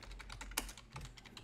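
Rapid keystrokes on a computer keyboard while entering a name during Photoshop editing of an actor headshot, a steady run of close, crisp clicks with one sharper louder tap midway.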